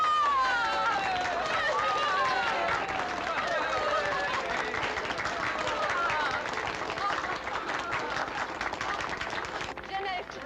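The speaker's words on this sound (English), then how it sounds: "Here's the one they should clap for" A crowd applauds a wartime rescuer in a French setting, sustained dense clapping that holds steady for several seconds before tapering off near the end.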